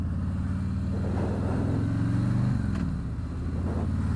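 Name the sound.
Harley-Davidson Street Glide Milwaukee 8 V-twin engine accelerating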